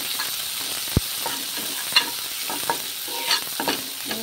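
Ground spices with salt and turmeric being stirred and fried in oil, a steady loud sizzle with a sharp spoon knock against the pan and repeated scraping strokes, no talking.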